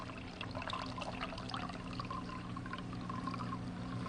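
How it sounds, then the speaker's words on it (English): Water is poured slowly and steadily into a cup holding a coin, a soft continuous trickle with faint splashes over a constant background hum, moderately quiet. "Now have someone else slowly pour water into the cup."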